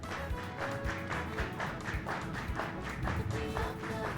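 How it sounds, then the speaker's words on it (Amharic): Audience clapping at an award ceremony, a dense, steady patter of many hands at moderate distance, continuous and even in loudness throughout. "አጨብጭቡላቸው።"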